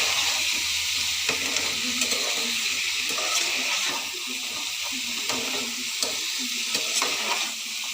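Potatoes and boiled chickpeas fry in a pan for a potato curry, with a steady close sizzle under repeated scraping stirs of a spoon against the metal throughout.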